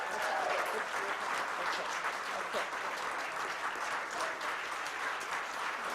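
A crowd gives a dense, sustained round of applause for scholarship recipients at a Black History Month celebration, the clapping rolling on evenly throughout while a voice briefly speaks over it.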